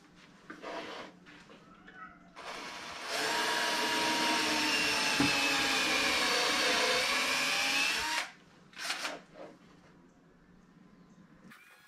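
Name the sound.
drilling into wood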